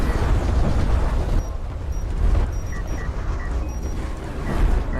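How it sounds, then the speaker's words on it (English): Artillery shells explode in the desert strategy game Homeworld: Deserts of Kharak, heard as heavy, rolling booms and rumbling blasts that overlap one another for several seconds with no pause. "There's the artillery."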